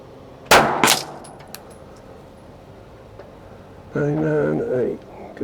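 A rifle fires at a target 100 yards away, giving two sharp, loud cracks close together early on, then a quiet stretch and a short voice near the end.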